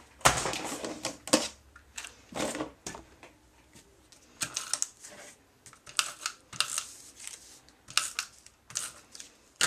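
A paper-cutting machine running a cartridge cuts with rapid, irregular mechanical clicks and whirring bursts, fairly faint and close, with no talking.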